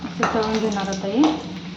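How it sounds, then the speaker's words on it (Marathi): An egg fries in hot oil in a wok with a steady, close hiss and crackle, and a spoon scrapes lightly against the pan. "असं तळून घेणार आता हे."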